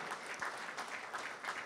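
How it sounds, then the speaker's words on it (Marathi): Loud, sustained applause from the audience at the Krutatdnyata Sanman Puraskar award ceremony honouring artists, a steady dense clapping with no voices over it. "यासाठी जोरदार टाळ्या झाल्या पाहिजेत."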